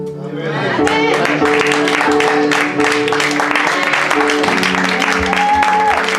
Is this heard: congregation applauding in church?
yes